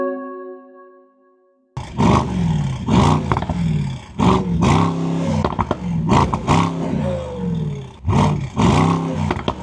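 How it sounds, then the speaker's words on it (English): Mercedes-AMG SL 63 with a 4-liter V8 and quad exhaust outlets roars loudly after a sudden start, in repeated revving bursts with deep throbbing pulses and brief lifts between them, close and alone. "quad exhaust outlets that make sure that you hear that 4-liter V8."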